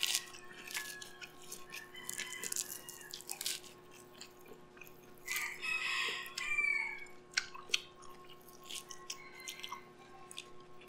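Roosters crow over one another with scattered clucking and chicken calls, a busy outdoor yard of fowl with no talking.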